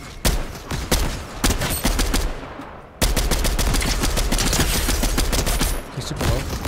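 Rapid automatic gunfire rattles in a shooter video game, loud and close, with sharp shots in quick bursts and nearly continuous volleys, without talking.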